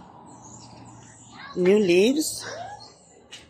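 Birds call outdoors in a garden of young mango and peach trees. A single harsh, crow-like caw rises mid-clip, fairly close, over quiet background while a person talks.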